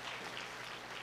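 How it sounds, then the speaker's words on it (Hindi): Church congregation clapping in praise after an offering, a brief, faint wash of many hands clapping together at low level with no speech over it. "ताली बजा के प्रभु को पूरी महिमा इस बात के लिए।"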